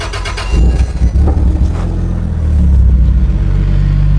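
A Toyota Land Cruiser 80 Series engine turns over and catches, then settles into a loud, low rumbling idle with a slight rise in revs, close and steady.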